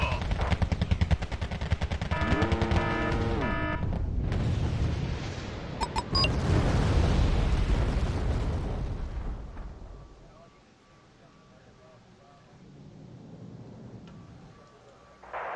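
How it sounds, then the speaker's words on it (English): Heavy bombardment in Wargame Red Dragon, with booming explosions, rattling machine-gun fire and artillery blasts rolling loudly over one another before easing to a distant rumble, with game voices over it. "They're already bombing us"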